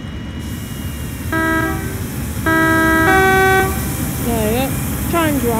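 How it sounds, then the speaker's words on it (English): A Class 70 diesel locomotive sounds its horn in several loud sustained tonal blasts, some bending in pitch, over a steady engine rumble. "So there we have it, class 70. We'll give you a tone."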